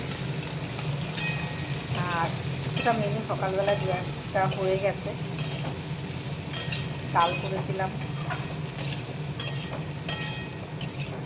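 Onion and potatoes frying in a pan: a continuous sizzle with regular clinks and scrapes of a spatula, close, while someone talks over it.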